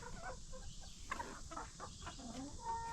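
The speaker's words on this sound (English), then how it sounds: "there's my little old baby chicks that we raised some" Young backyard chickens raised from hatchlings, not yet laying, cluck and peep softly in a garden pen with short chirps scattered over a steady outdoor background.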